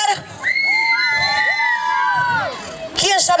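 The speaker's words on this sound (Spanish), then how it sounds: "¿Quién sabe gritar?" A crowd of children and adults shouting and cheering at a community event, loud and close, with voices rising into a sustained collective yell and a fresh burst at the end.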